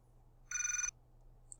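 A telephone ringtone sounds once as a short electronic burst with a steady, pulsing tone, fairly close and alone against a quiet room hum.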